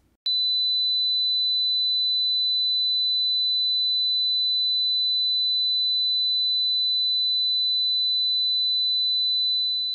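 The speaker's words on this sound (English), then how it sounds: "Four kilohertz. This one kind of sounds like feedback. It's piercing and bright." A steady 4 kilohertz sine wave test tone holds a single piercing, bright pitch for about ten seconds, starting abruptly and fading slightly at the end, with nothing else around it.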